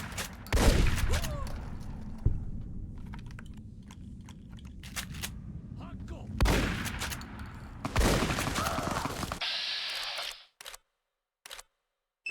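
Shotgun fire in Fallout: New Vegas, Honest Hearts, canyon setting: a few sharp close blasts and clattering bursts, then a quieter stretch with brief clicks.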